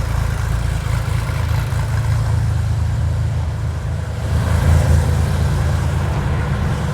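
A Porsche 993 Carrera RS Clubsport with its air-cooled flat-six, heater boxes and sport muffler idles loudly and close, a deep steady drone that swells briefly around the middle, with no talk over it.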